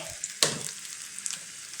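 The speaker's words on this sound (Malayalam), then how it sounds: "ഇതാ കടുക് നല്ലപോലെ പൊട്ടിയിട്ടുണ്ട്" Mustard seeds spluttering in hot oil while tempering drumstick-leaf rasam with toor dal and dried red chillies: a continuous close sizzle dotted with sharp pops and crackles, one louder burst early on, no talk.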